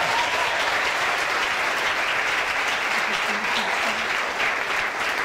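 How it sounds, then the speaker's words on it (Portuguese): A church congregation applauding in praise after a prayer during a service, loud sustained clapping filling the room throughout, with faint voices mixed in beneath it. "Você pode aplaudir ao Senhor pela sua palavra."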